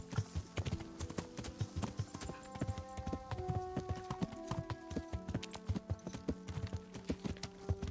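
Horse hooves clip-clopping in a steady walking rhythm in the video game Kingdom Come: Deliverance, close and continuous over background ambience with faint tonal music.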